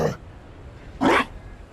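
A Mabari war dog barks in Dragon Age Inquisition, giving two short, fairly close barks about a second apart over a low background hum.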